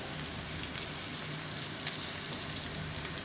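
Bacon-wrapped pork fillet sizzles and crackles in olive oil in a hot skillet. A steady, dense frying hiss runs throughout at close range, with scattered sharper pops and spits.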